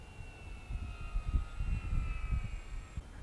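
Twin-engine RC glider from Lidl flying at half throttle, its electric motors giving a faint steady whine overhead, with wind buffeting the microphone underneath.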